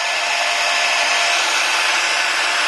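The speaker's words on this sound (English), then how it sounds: "It's always good to have a heat gun, or if you don't have a heat gun, use a blow dryer." Steady, loud broadband blowing of a heat gun runs without a break while an iPhone 5 is warmed during an LCD repair, with no voices.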